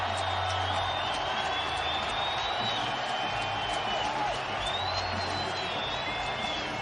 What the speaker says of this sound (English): And the crowd on its collective feet.